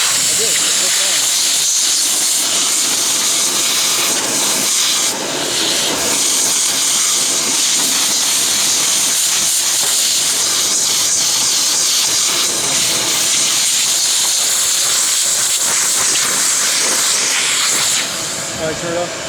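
A vacuum cleaner runs with a loud, continuous rushing hiss that holds steady for nearly the whole stretch before cutting off near the end.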